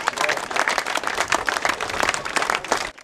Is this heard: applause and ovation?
yes